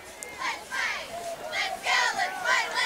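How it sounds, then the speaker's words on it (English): Crowd noise from packed bleachers at a high school football game under the lights, a busy wash of cheering and chatter with children's voices rising in bursts throughout. "Got a good crowd here tonight. Oh, this is a good crowd."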